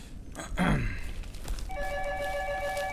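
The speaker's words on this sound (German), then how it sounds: "Ne, es hat geklingelt." A telephone rings indoors with a steady, clear electronic tone that starts partway through and continues to the end, following a brief louder sweeping noise near the start.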